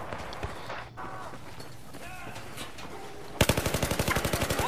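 A rapid automatic gunfire burst rings out near the end of a Battlefield 4 online match on PS3, following quieter in-game ambience and faint footsteps.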